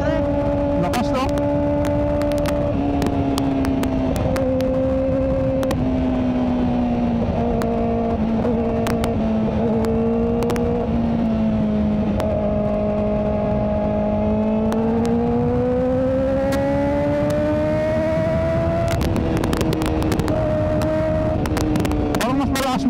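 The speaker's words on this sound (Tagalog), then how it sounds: "Parang mas malakas motor ko ngayon" A Kawasaki ZX-4RR motorcycle with an underbelly resonator exhaust drones loudly throughout, its pitch rising and falling as it revs, with a motor sound close by.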